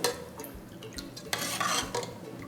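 Half a spoon of chili powder being mixed into cooked dal, with soft, quiet stirring scrapes and a few light utensil taps against the vessel, close and without talking.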